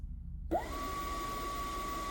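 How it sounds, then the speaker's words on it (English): A motor whirs up from silence and settles into a continuous, steady hum, blowing in reverse with a thin whine, running close by without any talk. "So the motor is going right now and it's blowing in reverse."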